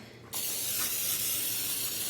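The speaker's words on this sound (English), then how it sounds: "So I'm gonna spray some nonstick spray on this pan." Nonstick cooking spray hisses onto a small pan from an aerosol can, a steady close, loud broadband spray starting abruptly and continuing alone.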